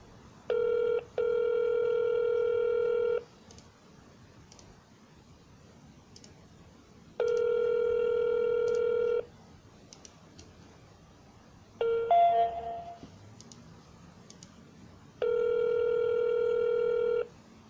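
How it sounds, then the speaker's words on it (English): A phone dials out with a quick burst of tones, then a ringback tone repeats in long, evenly spaced pulses, clear and close, with a short garbled break between rings. "Give him a call right back"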